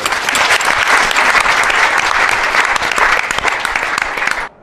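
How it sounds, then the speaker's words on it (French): A studio audience at a Togolese television talk show applauds steadily, dense and loud clapping sustained throughout before ending abruptly. "On applaudit pour Hervé, s'il vous plaît."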